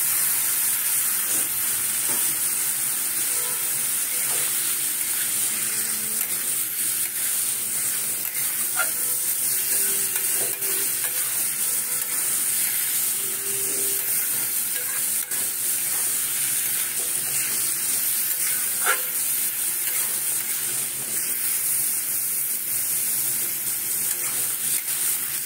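Mushrooms fry in a hot pan for chilli mushroom, a steady close sizzle and hiss running throughout with faint clinks of stirring.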